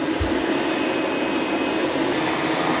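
A Roborock S8 MaxV Ultra robot vacuum runs nearby with a loud, steady whooshing suction roar and a faint whine, with a brief low thump near the start.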